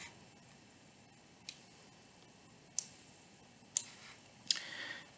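A computer mouse clicks four times, faint and crisp, with irregular gaps between the clicks over a quiet, hissy background while working in SPSS software.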